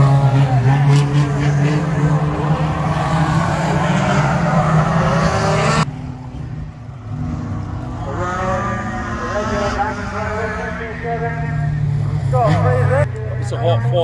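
Hot rod Ford stock cars racing at Crimond, Scotland: a loud, continuous roar of racing engines, with a voice talking over the din throughout.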